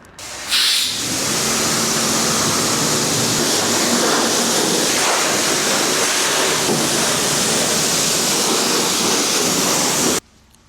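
Steady, loud hissing spray of water washing a dirty motorcycle, a continuous close roar that starts abruptly and runs for about ten seconds before cutting off, with no voices.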